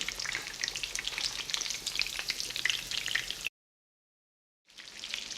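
Food frying in olive oil just after being flipped, a steady close crackling sizzle with a brief silent gap before the sizzle resumes.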